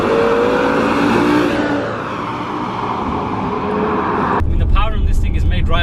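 A BMW M5 E60 accelerating hard, its engine climbing in pitch under a strong, sustained roar before abruptly cutting to a different, closer engine sound, with someone talking over it.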